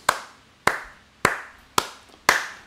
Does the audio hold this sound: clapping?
yes